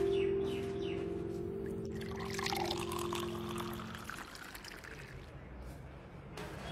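Water is poured into a glass indoors, a steady liquid trickle running for several seconds beneath a sustained background hum that fades partway through; fairly close and moderate in level, with no speech over it.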